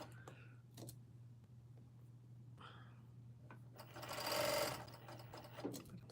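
A home sewing machine runs faintly and quietly, stitching a New Look 6752 garment in short bursts with brief pauses and a louder whirring run near the end.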